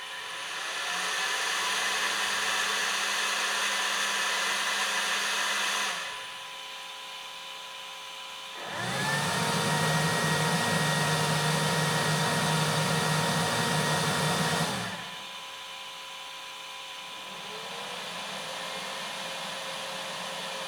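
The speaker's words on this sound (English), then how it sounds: "the loudest fan is the auxiliary fan. This one is actually very loud." Steady whirring of an Elegoo Centauri Carbon 3D printer's three cooling fans, switching between quieter and louder stretches, with the auxiliary fan much louder and harsher than the others, continuous hum close by.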